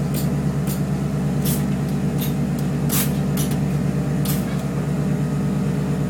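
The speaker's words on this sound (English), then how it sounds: "when I hit the paddles, so you can see how fast this air ride works" Air ride suspension on a vehicle airs up with a steady loud hiss and hum, broken by several sharp bursts of air as valves open in sequence.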